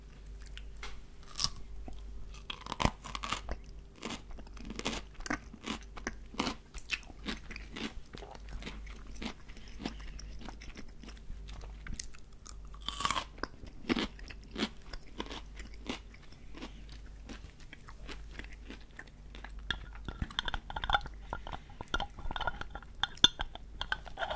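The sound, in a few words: eating crunchy pickles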